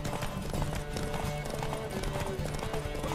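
Horse hooves in The Witcher 3: Wild Hunt clip-clopping in a quick, steady rhythm over a dense game soundscape, moderately loud throughout with no clear speech.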